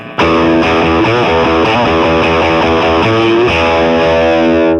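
A heavily distorted electric guitar note rings out loud and sustained, its pitch bending up and wavering before the note cuts off.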